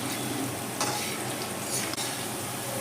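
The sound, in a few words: potatoes frying in oil on high flame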